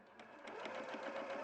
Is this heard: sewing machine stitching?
yes